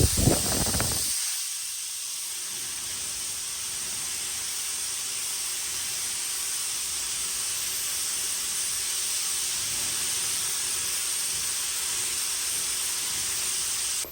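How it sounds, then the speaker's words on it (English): A paint sprayer set to an offset pattern sends out a steady, even hiss of spray over furniture, continuous and fairly close after a short louder burst at the start. "When I have some really detailed areas, I like to use the offset pattern on my sprayer"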